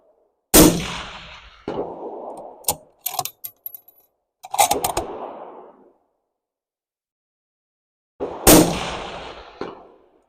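Shots of .308 subsonic rifle ammunition fired over a chronograph, two sharp loud reports about eight seconds apart, each with a short echo, plus metallic clinks and rustling in between against near silence.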